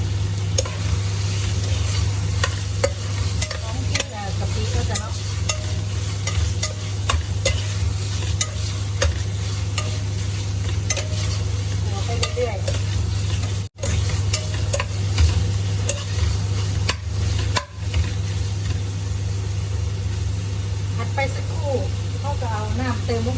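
Pork belly stir-fried with curry paste for a Thai pumpkin jungle curry, a steady loud sizzle with frequent scraping stirs, a low hum running underneath throughout.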